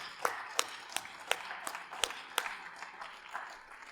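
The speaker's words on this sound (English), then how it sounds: "Diane, give her a big round of applause for being here." A small audience clapping at a 2022 Hall of Fame ceremony for educators, sparse and fairly faint, with separate claps for a few seconds before fading.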